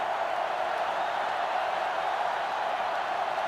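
A sellout stadium crowd in the NCAA Football 2005 video game roars in a steady, loud wash of cheering that holds unbroken throughout.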